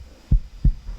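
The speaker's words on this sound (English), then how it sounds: "you can start to hear the heartbeat" A low-health heartbeat effect from the Wwise Cube video game thumps three times in steady rhythm, deep, loud and close, with a faint hum beneath.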